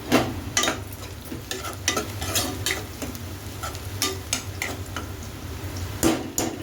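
Onions browned in a pan with three chilies added, a low sizzle under frequent close scraping and clinking of a spoon stirring against the pan in an irregular rhythm.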